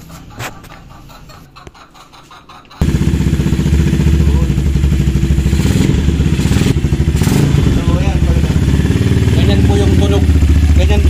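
A motorcycle engine with an open carburetor starts after some clattering and runs loudly with a rough, throaty idle and an airy intake sound, close to the listener.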